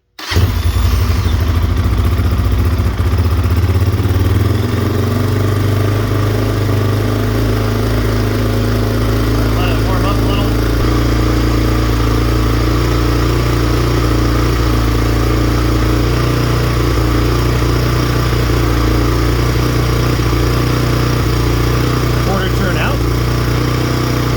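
A GPX Moto FSE 250E motorcycle engine with a slide carburetor idles steadily and loudly right up close for the whole stretch after starting, a constant low rumble with faint background sounds.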